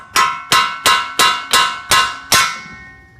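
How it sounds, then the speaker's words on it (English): Seven sharp metallic hammer strikes ring out at a steady, slightly slowing pace as an old tie rod is knocked down and through its mount on a G35/350Z front suspension, each hit decaying with a short ringing tail. "Just get a hammer and knock it down and through"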